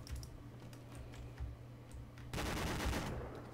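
Heavy .50 caliber machine gun in a military video game fires in a loud sustained burst that breaks in abruptly partway through, over a low rumbling background with scattered clicks.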